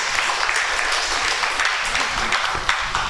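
A church congregation at a Korean Baptist Sunday service applauds, a continuous full wash of many hands clapping throughout, even and sustained, with faint voices in the crowd.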